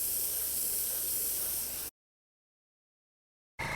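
An airbrush sprays paint onto an RC car body, a steady close hiss that cuts off abruptly into silence, then resumes briefly at the end.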